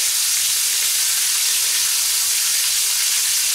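Pork steaks searing over high heat in a hot pan give off a loud, steady, close sizzle with bright hiss that holds unbroken throughout, no voices over it.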